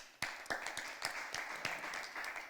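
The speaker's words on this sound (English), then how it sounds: "Give yourself a round of applause." Applause from an audience and debate teams at an inter-secondary school debate: a small group clapping in separate, uneven strikes, faint and slightly distant, starting abruptly and continuing.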